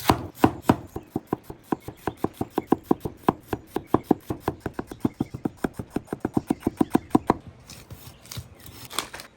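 Onion and jalapeno are thinly sliced with a knife on a cutting board outdoors, giving a fast, even run of sharp chopping taps that stops near the end, followed by a few scattered knocks.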